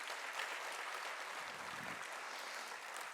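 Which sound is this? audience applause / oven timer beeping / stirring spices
audience applause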